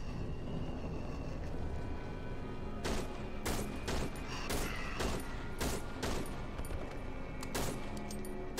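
Bursts of gunfire crack through a horror video game, a string of sharp shots spaced irregularly over a constant low background rumble, moderately loud.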